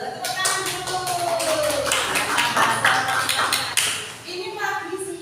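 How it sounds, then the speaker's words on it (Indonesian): A class of seventh-grade children claps together in rhythmic bursts while a teacher's voice talks over them, the clapping loud and close in a classroom. "Tepuk tangan dulu."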